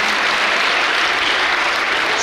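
An audience claps steadily at a school quiz competition prize announcement at Sahakar Vidya Mandir, Deulgaon Mahi, a dense, sustained round of applause with no voices over it.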